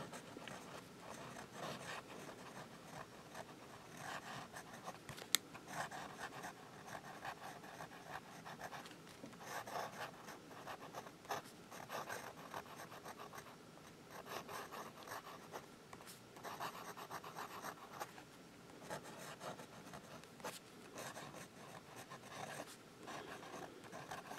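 A Sailor Pro Gear fountain pen with a hard fine nib scratching softly across paper, a faint close continuous rasp of writing strokes with small pauses, no voices.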